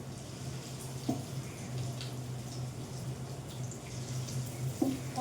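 Steady running tap water splashes into a sink during dishwashing, a continuous low rush with a few faint clinks of utensils and no talk.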